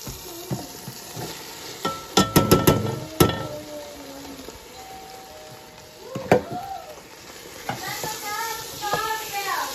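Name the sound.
tomatoes and onions stirred and frying in palm oil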